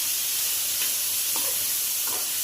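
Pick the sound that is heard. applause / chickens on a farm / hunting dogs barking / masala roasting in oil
masala roasting in oil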